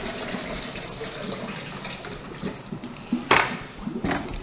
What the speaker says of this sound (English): And we'll pour it back into the hopper.